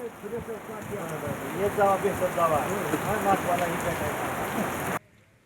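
Heavy monsoon rain pours down in Raigad, a steady, loud hiss of drops striking surfaces that keeps up throughout before cutting off abruptly near the end, with faint voices mixed in beneath the downpour.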